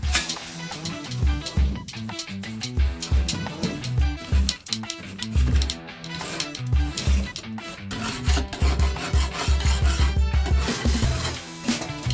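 Glue is scraped off inside a Renault Trafic L1H1 van, sped up into a rapid, busy stream of rasping, scratching strokes that runs throughout, with rhythmic thumping underneath.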